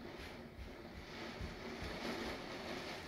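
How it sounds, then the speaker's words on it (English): Wind gusting through a backyard during a fierce storm, a steady, loud broadband roar that swells and surges without letup, with no voices over it. "here comes the wind again"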